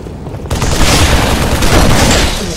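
Grenades exploding repeatedly in Halo 3 multiplayer, a dense, loud barrage of booming blasts that starts abruptly and keeps rumbling with no break.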